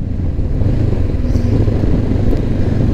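A Honda CB500X motorcycle engine drones loud and close while riding, a dense low rumble with steady throbbing and wind roar throughout, no speech.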